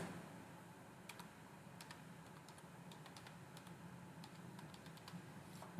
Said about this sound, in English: This is what happens when you don't look what you're typing.